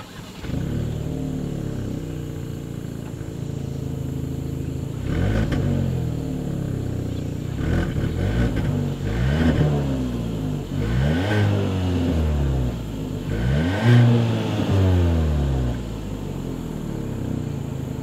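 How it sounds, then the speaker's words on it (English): Turbocharged engine of a 2022 Kia Soul revving through its exhaust, a steady idle broken by several rising and falling rev sweeps, loud and close with no talking. "As always, here is that exhaust clip."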